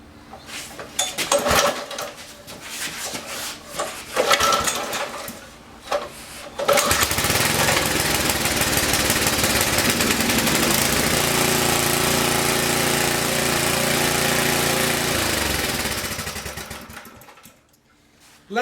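A Sears roto tiller's small gasoline engine starts and runs steadily and loud for roughly ten seconds after some clattering handling, then cuts out near the end; no one talks over it.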